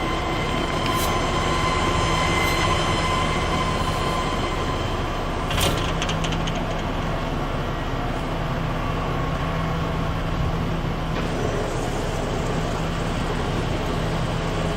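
A Kitamura Mycenter HX1000i horizontal machining center runs with a steady, loud mechanical drone and constant hum, with a few brief higher clicks and hisses near the start and middle, and no talking.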